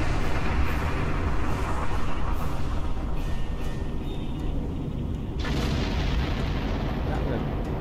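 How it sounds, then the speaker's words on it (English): A ship explodes in Star Trek Online, a loud, continuous rumbling roar that fills the whole stretch and shifts tone partway through without ever fading. "That was a glorious explosion!"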